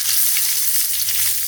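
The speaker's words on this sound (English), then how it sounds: "Now in a pan, add vegetable oil. And when it is hot, add cumin seeds and chopped ginger" Cumin seeds and chopped ginger fry in hot vegetable oil in a pan, making a steady, bright sizzle close by with no voices.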